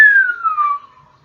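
A short, thin whistle that slides steadily downward in pitch, breathy and a little wobbly, then trails off into quiet.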